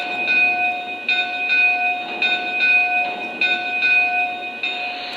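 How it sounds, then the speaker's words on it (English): Bell of a Lionel Canadian National ten-wheeler model locomotive, ringing in a steady repeating clang with bright sustained overtones, each strike roughly every second, close and clear with no talking. "Here's the bell."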